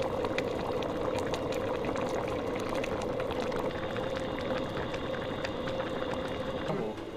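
A pot of pork belly stew with eggs, glass noodles and potatoes simmers steadily, making a soft continuous bubbling hiss at low volume with no talking.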